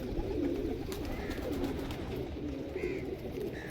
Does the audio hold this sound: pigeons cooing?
yes